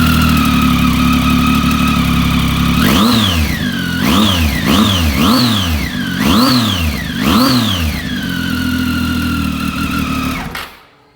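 A 2010 Triumph Tiger 800 motorcycle idles steadily, then is blipped through about six sharp throttle revs that rise and fall in quick succession before the engine cuts off, loud and close with no talking.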